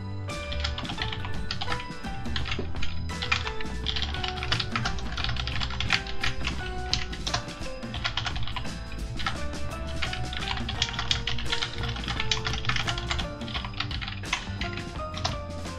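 Commands typed steadily on a computer keyboard, a close, continuous patter of quick key taps with occasional louder strikes and no speech.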